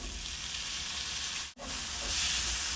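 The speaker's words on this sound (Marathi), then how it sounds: "एक मोठा टोमॅटो घेतला होता मी, तो बारीक चिरून घेतलाय, तो आपण यात घालूया" Finely chopped tomato sizzles with sautéed spices in a pan for a drumstick dry curry, a dense steady hiss broken by one brief gap, close and without talk.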